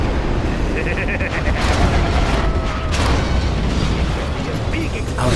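A big explosion rumbles through a Command & Conquer Generals Zero Hour battle, a dense, sustained low boom filling the mix with crackling debris on top, loud and continuous over the whole stretch.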